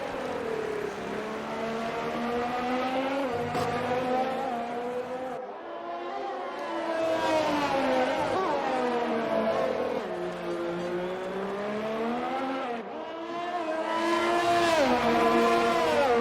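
Race cars, among them a Ferrari, roar through a racing video game with the rain coming: sustained engine whine rising and falling through gear changes, loud and continuous with no talking.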